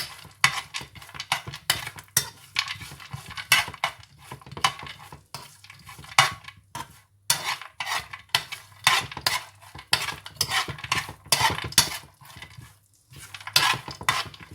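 Black raisins being lightly roasted over low heat in a pan while making sheer khurma, with rapid, irregular clinks and scrapes of a metal spoon against the pan, close and continuous.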